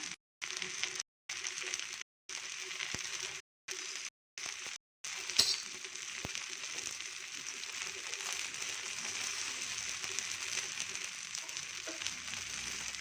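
Roti frying on a hot pan on a stove, a steady soft sizzle with faint crackles, quiet and continuous, briefly cut out several times early on before running unbroken.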